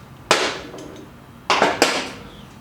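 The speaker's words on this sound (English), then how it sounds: "we're gonna continue by removing the lower shock bolt" Lower shock bolt being removed from an M8 Softail motorcycle during a monoshock install: a sharp metallic knock near the start, then two more close clanks about a second later, each ringing briefly before fading.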